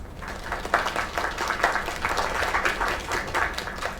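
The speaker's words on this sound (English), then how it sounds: "Another round of applause." Crowd applause in the video game Lake after a singing performance, a steady wash of many hands clapping for several seconds at moderate volume with a faint voice underneath.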